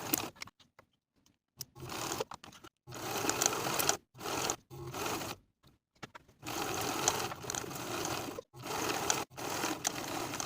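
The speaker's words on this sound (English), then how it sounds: "Then we'll sew the inner curved and bottom edge with a 5/8 inch seam allowance." A sewing machine stitches the inner curved and bottom edges of a hoodie pocket at a 5/8 inch seam allowance, running in several separate bursts of steady motor whir with brief pauses between them, close and fairly quiet.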